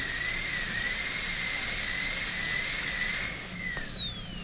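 Dental drill burr cutting a PFM crown preparation, a steady high-pitched whine held close and loud for the whole stretch, its pitch drifting slightly and dipping near the end, with no talk.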